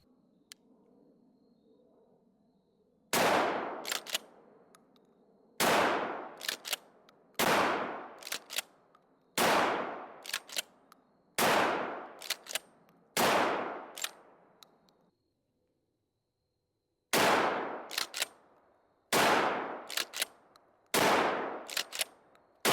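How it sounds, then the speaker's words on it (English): An Escort Bulltac 12 gauge shotgun fires a series of about nine loud, sharp blasts at irregular intervals, each followed by quick metallic clacks of the action cycling, with a short pause partway through. "So far, no issues. Let's get reloaded and we'll shoot the other 14."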